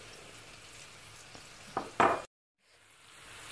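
Veal pieces sizzle in a pan with leftover marinade and a splash of water for a tajine with tomatoes and caramelized onions, a steady frying hiss broken by two louder splashy bursts, then a brief cut to silence before the sizzle returns.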